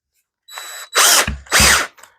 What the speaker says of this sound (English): you could also take your drill,